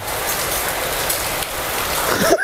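An overhead sprinkler installation in an aviary sprays artificial rain in a dense, steady hiss of falling drops, with a brief sound at the very end.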